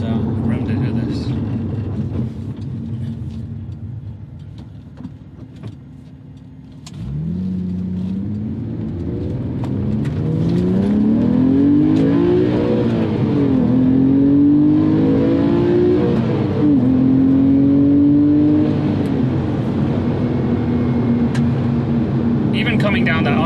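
Porsche Boxster accelerating hard up a highway on-ramp, engine note climbing through rising gear pulls with brief dips at shifts, loud and close from inside the cabin, with road roar throughout.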